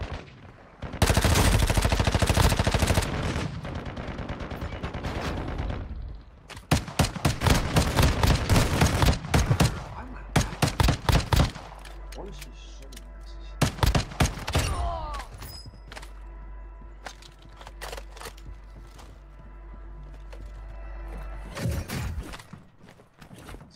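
Video game gunfire rattles off in long, loud bursts of rapid shots, broken by short pauses and a few quieter stretches, with no talking.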